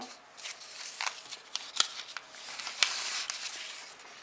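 Scissors snipping through a small piece of white paper up close, a series of quiet, irregular crisp cuts with a couple of sharper clicks of the blades.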